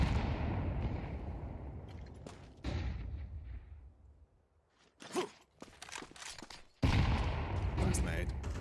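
Grenade exploding during a competitive first-person shooter esports match, one booming blast amid gunfire and crunching footsteps, followed by quieter scattered shots before the firing swells again.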